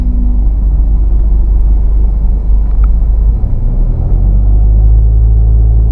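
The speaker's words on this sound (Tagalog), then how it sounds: "Sobrang haba ng traffic mga kabiyahe." Inside a vehicle crawling through heavy expressway traffic after Santo Tomas, a loud, constant low engine and road rumble drones on with no break and no talking.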